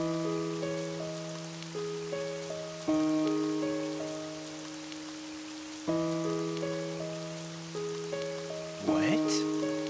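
Steady rain falls in the video game Eternal Senia, a soft continuous patter under a looping melodic music track, with a brief sweeping effect near the end.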